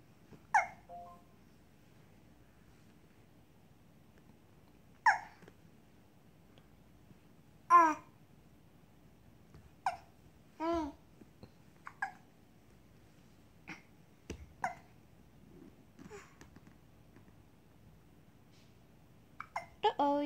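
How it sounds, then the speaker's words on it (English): A small child hiccups repeatedly: short, sharp, close-up bursts spaced every couple of seconds over a quiet room, with a few faint vocal squeaks in between. "Oh, you got the hiccups."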